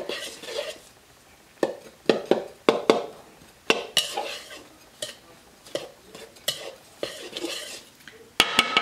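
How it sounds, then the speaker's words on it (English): A knife works salt into a baking mixture in a bowl, giving a series of close scraping, tapping strokes that come in uneven bursts, some sharper clicks among them, with no talking. "I'm going to take my knife and kind of just blend it all together"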